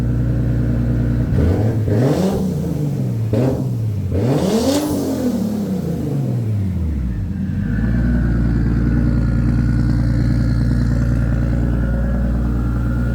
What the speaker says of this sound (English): I got this thing running pretty good now. It's idling very, very steady.